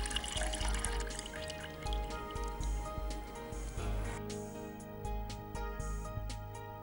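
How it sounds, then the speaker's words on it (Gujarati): Flattened rice (poha) is rinsed in water and drained in a kitchen, with splashing, trickling and squishing sounds that shift from a fuller wash to sparse drips and clicks, close and with no talk. "પૌવાને આવી રીતે ધોઈ લેવાના છે અને એનું પાણી કાઢી લેવાનું છે"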